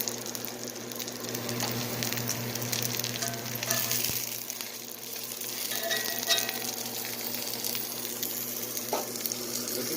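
A brisket birria taco fries in a pan just after being flipped, giving a steady close sizzle with occasional small clinks and stirring noises.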